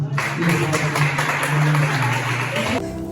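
A church congregation applauds during a pastor's sermon, the clapping mixed with sustained low musical tones. Steady, moderately loud clapping continues for several seconds before cutting off near the end.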